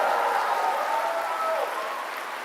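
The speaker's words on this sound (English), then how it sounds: "A big applause to all of you." An audience at an opening ceremony applauds in a dense, even wash of clapping that stays loud and continuous, tapering a little toward the end.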